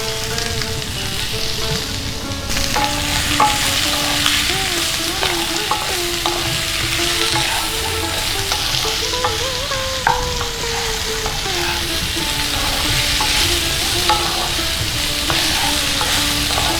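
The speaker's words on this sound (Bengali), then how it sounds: "নুন হলুদ দিয়ে সবজিগুলো ভালো করে একটু ভেজে নেব" Mixed vegetables frying with salt and turmeric in a pan: a loud, continuous sizzle sounds close throughout, with faint stirring clicks and a few tonal squeaks running through it.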